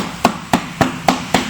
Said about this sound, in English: because I have a metal hammer in my hand right now